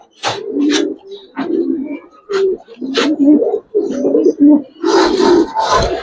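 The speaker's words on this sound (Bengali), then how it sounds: "নেন ভিডিওর শেষ মোমেন্ট দেখেন, কবুতর দেখেন" Silver Giribaz pigeons coo in a repeating series of low, throaty calls close by, each burst rising and falling, with some brighter noise and faint background voices toward the end.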